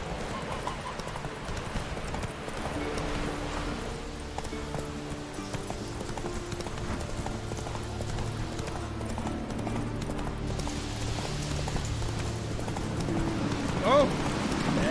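Horse galloping in The Witcher 3, a steady clip-clop of hooves running beneath game music, with speech over it and a short whinny near the end.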